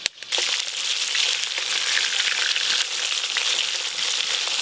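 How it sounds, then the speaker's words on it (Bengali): Fish sizzling and spitting steadily in hot oil in a pan, a dense, close crackle that holds at an even level throughout with no one talking. "এই মাছগুলো ভাজা হয়ে গেল।"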